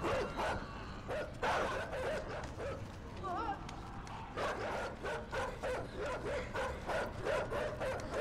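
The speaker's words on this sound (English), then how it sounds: "Shut up, dogs." Dogs in the video game Inside bark repeatedly in short, uneven bursts at moderate distance, mixed with game ambience and footsteps, while a person talks over part of it.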